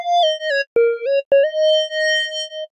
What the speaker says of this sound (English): FM leads, wood lead.